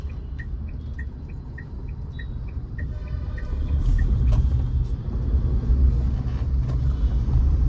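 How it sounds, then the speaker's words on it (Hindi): A car on a Bengaluru road swings through a U-turn in light traffic, its steady road rumble swelling partway through, while a rhythmic cricket-like chirping ticks along faintly in the first half. "मैं कर लेता हूँ यहाँ से यू टर्न।"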